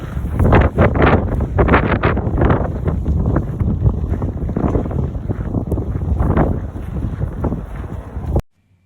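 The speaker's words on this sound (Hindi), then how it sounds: "ऊपर से हवा इतनी चल रही थी, ऐसा लग रहा था हवा के साथ मैं ही कहीं ना उड़ जाऊँ" Strong wind in a snow storm outside a Costco in the USA roars loud and continuous against the microphone for several seconds, with gusting buffets, then cuts off abruptly at the end.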